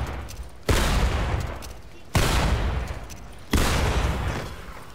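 Gunfire and car explosions in Fortnite: three heavy, loud blasts land about a second and a half apart, each hitting suddenly and then rumbling slowly away, with a faint voice underneath.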